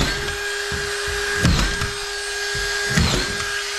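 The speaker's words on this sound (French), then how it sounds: "on n'a plus qu'à visser." A power drill drives screws through plasterboard into a metal rail while a wall lining is fitted. The motor gives a close, steady whir, with a couple of louder bites as the screws seat.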